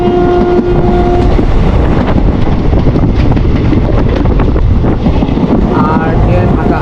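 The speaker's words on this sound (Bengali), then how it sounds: "বাঁকে ঘুরছে ট্রেনটা।" A passenger train rounding a small bend after leaving Khagraghat station, its wheels and carriage rumbling loudly and continuously from on board, with wind buffeting and a brief steady tone near the start.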